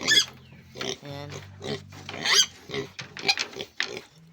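A hungry two-week-old piglet oinks and grunts in a rapid, irregular series of close squeals and snorts, with a person speaking briefly among the calls.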